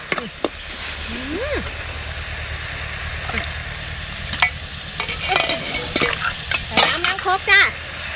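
Water spinach stir-fried over high flame in a wok: a continuous close hiss with clinks and scrapes of the spatula, briefly joined by faint vocal sounds, ending in a cluster of louder clatters.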